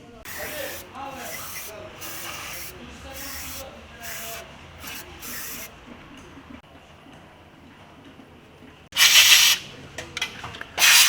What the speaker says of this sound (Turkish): Saplama giriş noktalarımıza balat spreyini sıktık.